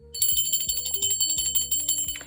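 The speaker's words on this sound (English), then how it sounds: "Let me ring the bell for them." A small bell is rung continuously, bright rapid metallic strikes ringing close and loud on their own with no voices.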